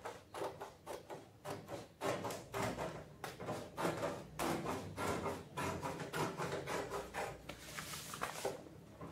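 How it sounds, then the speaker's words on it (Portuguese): Scissors cut through material being trimmed to fit a microwave, a series of rough, rasping snips in uneven bursts, close up and fairly quiet. "Vou meter a tesoura aqui."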